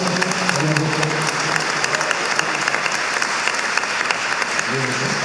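A crowd claps steadily for several seconds during a Sunday Mass homily, an even patter of many hands, with voices mixed in underneath.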